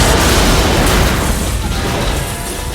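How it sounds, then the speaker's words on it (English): A loud, booming explosion from the James Bond film The World Is Not Enough erupts close behind the actors, a broad roaring blast that rumbles on and slowly fades. "The explosion is right behind them."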